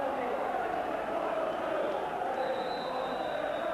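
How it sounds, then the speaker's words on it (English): A large football crowd fills Firhill stadium for a 1991 First Division match between Partick and Dundee, a steady broad roar and murmur that stays constant beneath someone talking over it. "It's like old times here at Firhill, with a huge crowd inside the stadium"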